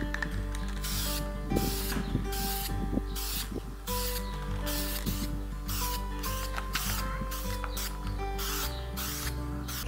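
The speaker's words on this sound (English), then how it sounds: "Nice black metal spray paint on there." Black metal spray paint hisses from an aerosol can onto a garden bench outdoors in repeated short bursts, with faint rattles and clicks of the can between passes.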